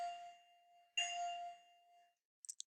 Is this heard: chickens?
no